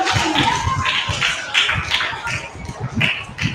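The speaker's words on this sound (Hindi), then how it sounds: "सारे बच्चे जोर से तालियां बजाएंगे।" Many children clap loudly together at a Hindi elocution competition, a dense, steady patter of hand claps that fills the whole stretch without pause.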